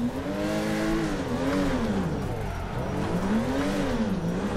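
Race car engine in the Torque Drift game, revving and swinging up and down in pitch as the car is clutch-kicked sideways into a drift, loud and steady with no talk.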